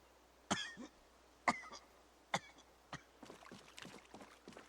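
A character in Project Zomboid coughs three times in sharp, evenly spaced bursts, each one loud and raspy, followed by softer scattered throat sounds against a quiet background.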